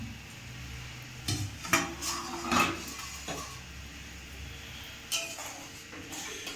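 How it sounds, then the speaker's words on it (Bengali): A metal lid is lifted off a pot of village-style Sonabogo fish curry, giving a few sharp clanks and scrapes over a soft, steady background hiss from the stove. "এবারে ঢাকনাটা তুলে নিল"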